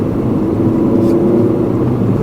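Turbocharged car engine droning steadily from inside the cabin while overtaking on a winding Tibetan plateau mountain road, a loud, low continuous hum with no talking.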